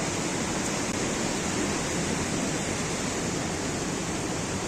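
The Trishuli river in Rasuwa, Nepal, on a rainy day, rushing past as a steady, loud broadband roar of flowing water, unbroken for the whole stretch with no voices.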